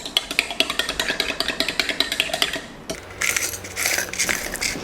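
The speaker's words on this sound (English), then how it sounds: "So fill your cup with ice." Ice cubes poured into a cup for an iced cloud coffee: a quick run of sharp clinking, rattling knocks close by, then a brief pause and a louder tumbling crunch of cubes settling.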